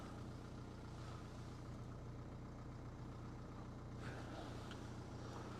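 An engine idles steadily with a constant mid-low drone, fairly faint and unbroken, with a brief brighter clatter near the end and no voices.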